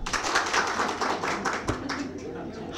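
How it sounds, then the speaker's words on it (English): A seminar audience clapping on cue during a branding talk, with brisk, steady crowd clapping throughout, one sharper clap standing out midway, and faint voices in the room. "Okay, Rajan, clap."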